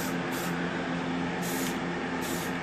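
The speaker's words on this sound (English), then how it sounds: "The metallic spray paint comes out a lot thicker" Metallic smoke spray paint hisses from an aerosol can onto 26-inch chrome wheels, a loud, close, steady spray whose high hiss cuts in and out in a few short pulses.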